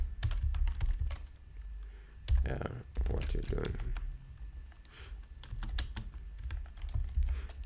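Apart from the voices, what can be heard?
typing on a computer keyboard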